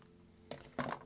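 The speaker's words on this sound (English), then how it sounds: "now I'm going to cut these out real quick" Scissors cutting out paper groundhog shapes, two quick crisp snips close by, each a short papery crunch, in a quiet room.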